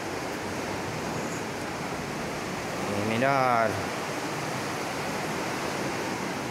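Sea waves roaring against the coast by a cave at Llanes, Asturias, a continuous loud broadband rush of surf. A voice speaks briefly over it midway.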